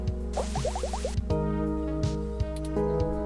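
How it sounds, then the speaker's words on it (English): A water dispenser robot in a video game pours water, a quick run of bubbly gurgling drips over a steady electronic hum, followed by faint mechanical tones and soft clicks, with no talk. "Would you like some cool, refreshing water?"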